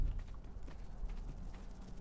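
A horse in Ark: Survival Evolved trots with soft, quiet hoof clops in a loose rhythm under low ambient noise.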